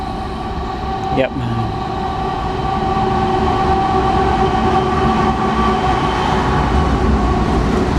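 A train rolls past close by, a loud continuous rumble with steady tonal wheel and rail noise, a brief squeal near the start and a short spoken word over it.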